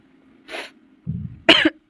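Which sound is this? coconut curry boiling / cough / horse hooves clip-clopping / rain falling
cough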